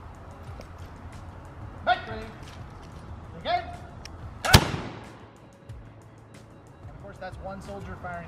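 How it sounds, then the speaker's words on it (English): A single musket shot at a Revolutionary War battlefield demonstration in Yorktown, Virginia: one loud, sharp crack near the middle with a fast decay, set among outdoor crowd noise and a couple of smaller knocks. "Soldier firing one musket on a battlefield"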